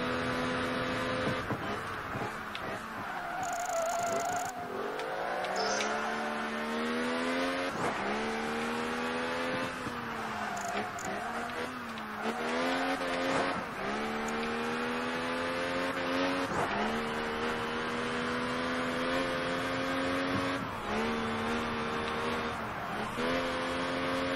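A race car engine in Project Gotham Racing 3 keeps up a loud, buzzing whine like a swarm of angry bees, rising and falling through repeated gear changes and revs over continuous game ambience.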